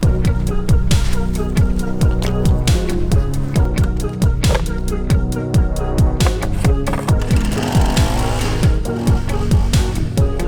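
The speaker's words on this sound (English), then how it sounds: "let's give it an edge, and a whippy snip" A petrol edger and whipper snipper trim a TifTuf Couch Bermuda lawn, the two-stroke engine droning loud and close throughout. Its pitch rises and falls steadily as the string line cuts along the grass edges.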